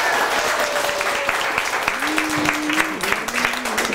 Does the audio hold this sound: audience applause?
yes